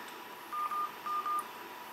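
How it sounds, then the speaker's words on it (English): An LG Optimus G phone dialer plays four short touch-tone beeps in two quick pairs, clear and close over a faint background hiss. "there's the number, and I can just dial it."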